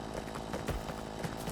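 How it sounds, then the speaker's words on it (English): A chainsaw cuts trees in a campground simulator video game, producing a buzzing, uneven engine drone with small surges, fairly quiet and steady across the short stretch. "last is the trees, which would be the chainsaw"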